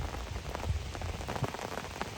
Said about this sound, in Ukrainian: Да, Дощ іде, а лящ все так і не ловиться.